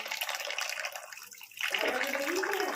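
Running water splashes and pours while fresh chhana (cottage cheese) is rinsed by hand in a home kitchen, a steady close wash that briefly eases, then surges back fuller and louder.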